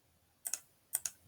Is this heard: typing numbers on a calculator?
yes